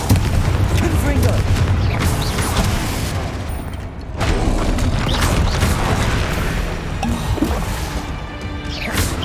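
Confringo fire spell blast in the Hogwarts Legacy video game: loud, dense crashing and booming explosions that run continuously with brief dips, under a busy mix of impacts and mechanical clatter.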